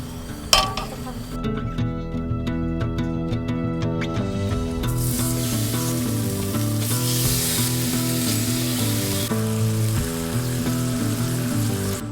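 Food frying in a big stainless steel frying pan on a gas stove inside a VW camper van, with loud, continuous sizzling, occasional metallic clinks and a steady underlying hum.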